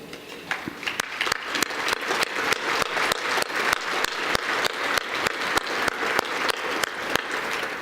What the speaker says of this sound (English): I hope you'll join me in a round of applause